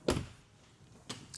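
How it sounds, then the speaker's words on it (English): A car door soft-closes in a dealership, a muffled thud followed by a quieter latching click as the mechanism pulls it shut, close by. "Soft closed doors as well."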